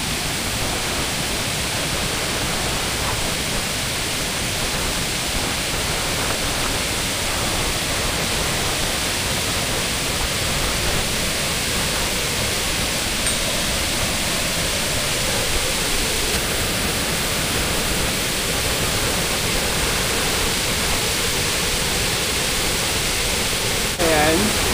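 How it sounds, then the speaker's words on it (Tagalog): The level 2 falls of a waterfall in Agusan del Sur roar as a dense, unbroken rush of water, loud and steady throughout, with faint talk buried beneath. "So ito yung falls ng level 2."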